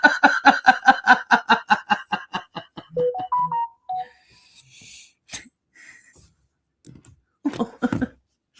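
A phone chimes out a run of rapid, evenly spaced electronic tones, then breaks into short falling notes with scattered quieter sounds after, loud and close with no talking.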